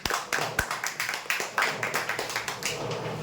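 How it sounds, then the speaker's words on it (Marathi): A crowd claps for a prize winner at a weekly lucky draw, with brisk uneven hand claps in quick bursts that are fairly loud and close, and no speech over them. "ओटीजी ओवन साठी जोरदार टाळ्या होण्यासाठी"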